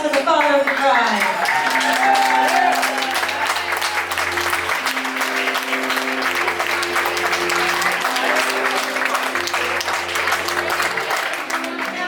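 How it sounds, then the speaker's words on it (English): Wedding guests applaud in a dense, continuous round of clapping that lasts throughout, with music and voices underneath. "Let's have a big round of applause for the father of the bride."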